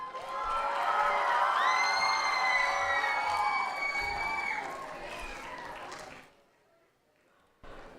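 An audience at a summit event cheers loudly for someone called on stage, a mix of shouts, whoops and high excited voices that fades into near silence before a brief burst at the end.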